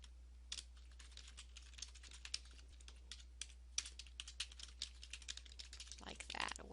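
Someone types out an email on a computer keyboard, a steady patter of quiet, close clicks with short pauses and a faint hum beneath.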